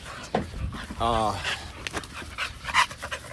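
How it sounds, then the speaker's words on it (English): Dogs outside a tiny home panting and barking, with a brief bark and rapid close panting bursts, mixed with a person talking nearby. "As you can see, I've already let the dogs out. They want to come back in."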